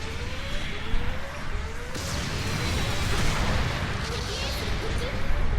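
Heavy mech weapon fire in Gundam Battle Operations 2, booming shots over a constant roar of battle noise, with a sharper blast near the middle.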